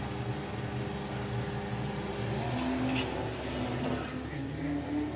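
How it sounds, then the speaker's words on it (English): A VW-powered Altered drag racing car runs at a drag strip, its engine a steady rumbling drone heard at moderate distance with a faint rise in the middle. "So this is a VW powered Altered."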